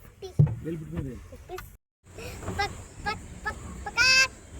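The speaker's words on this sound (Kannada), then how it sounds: "ಏನು ಕೋಳಿದ ಸೌಂಡು? ಕೋಳಿ ಸೌಂಡು." Loud, harsh honking chicken calls in a few bursts, with people talking nearby in between, at a temple visit.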